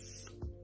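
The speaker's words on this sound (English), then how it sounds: "I usually spray my face twice." A single short hiss of setting spray misted onto a face, close and soft, with a faint puff near the end of the burst.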